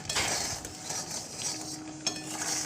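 A spoon stirring mustard powder into a tamarind pickle in a pot, giving close, continuous scraping and mixing with soft clinks of metal against the vessel.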